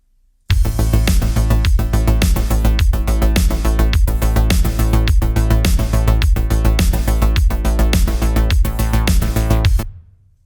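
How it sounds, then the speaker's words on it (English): Loud synthwave drum group entering abruptly over a synth, punchy kicks and snares on a steady driving beat with heavy sub bass, dense and continuous for about nine seconds before cutting off. "let me put this drum group in and you'll hear exactly what I mean"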